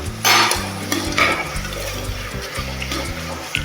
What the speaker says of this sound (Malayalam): നമുക്കൊരല്പം ഉപ്പ് കൂടി ഇട്ടിട്ട് സവാള ഒന്ന് വഴറ്റിയെടുക്കാം.